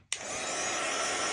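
After a brief click, a handheld dryer roars on at steady strength, drying gesso on a mixed media piece with a constant, even whoosh close to the mic.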